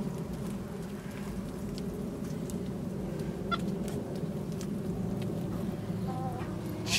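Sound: chickens clucking

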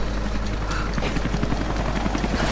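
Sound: helicopter in Rise of the Tomb Raider video game

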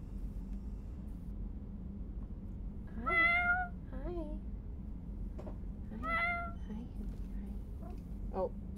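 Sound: cat meowing

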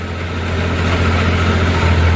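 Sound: tractor engine running

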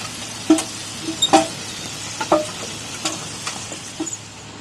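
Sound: potatoes frying in oil

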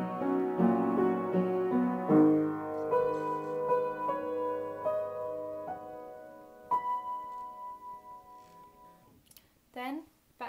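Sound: piano part

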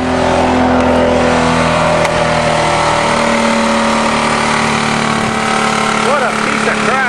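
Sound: 20-ton bulldozer engine revving while crushing a Thunderbird

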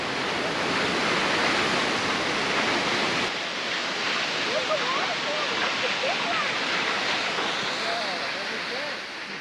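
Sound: Fitzroy Falls waterfall, 81 metre drop

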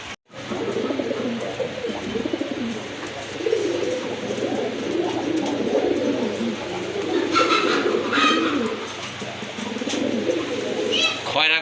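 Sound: pigeons cooing

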